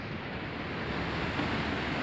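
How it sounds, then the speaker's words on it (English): Ocean waves wash against a rocky San Diego shoreline in a steady, dense roar of surf, mixed with some wind noise and no voices. "the waves look small on camera, but when you see them in real life, they're huge"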